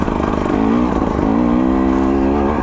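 A 2024 KTM 300 XC-W two-stroke dirt bike putters steadily in second gear while riding over roots, its engine droning close and continuous with a slight rise midway, no talk.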